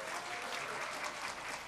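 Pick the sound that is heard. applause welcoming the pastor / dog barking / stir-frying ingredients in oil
applause welcoming the pastor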